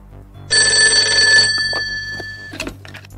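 A telephone rings with one loud, sharp electronic trill lasting about a second, then fades out with a brief clatter at the end, close and with no voices.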